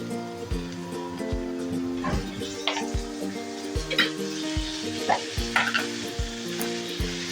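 Ginger and garlic paste sputters in hot oil in a pan for a tomato-puree egg curry, a loud steady sizzle with repeated clanks and scrapes of a stirring spoon, up close and without voices.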